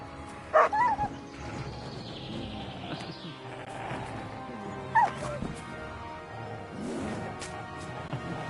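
Mutt, a dog in the video game Kingdom Come: Deliverance 2, gives a couple of sharp barks and yips, one near the start and another midway, over game ambience with faint horse hoof sounds.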